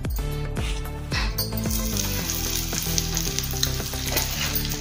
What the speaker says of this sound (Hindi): ये तेल है, इसमें डाल देंगे पैन में और सब्जी बनाएंगे।